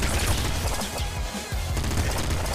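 Rapid bursts of bullet-weapon gunfire in the video game Nuclear Throne, dense, loud rattling shots overlapping with impacts and game noise throughout.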